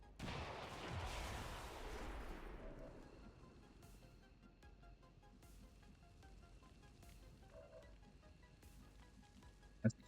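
Bombs detonate in the XCOM 2 Long War of the Chosen video game, a dense rumbling burst of explosions at the start that fades into a low lingering roar, with a sharp brief crack just before the end.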